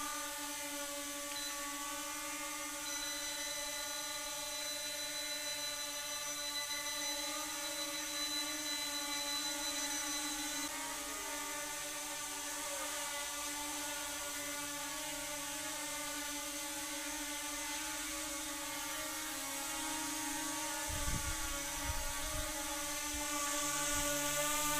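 An S5S mini brushless drone flies indoors, its high steady whine of small spinning propellers droning continuously at close range with stable pitch throughout, alone with no voices.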